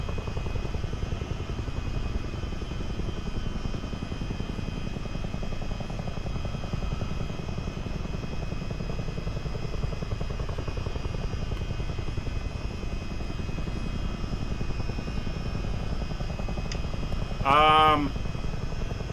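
A CH-47D Chinook tandem-rotor helicopter in a flight simulator game drones steadily with a dense, continuous rotor and engine roar throughout, broken only by a brief higher-pitched chime near the end; no one speaks.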